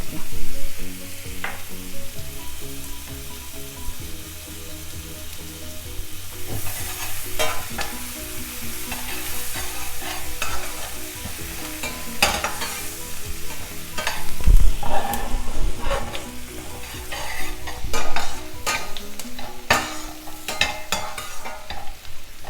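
Onion sizzling in a pan for masala pasta, with a steady fry, scraping and stirring clatter throughout, close and fairly loud with no talk.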